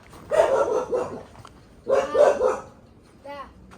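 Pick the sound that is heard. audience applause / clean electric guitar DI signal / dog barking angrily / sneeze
dog barking angrily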